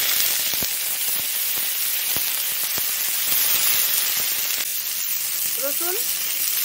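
Onion sizzles in hot oil with black cumin in a village kitchen, a steady bright crackling hiss with sharp pops, and a voice is briefly heard near the end.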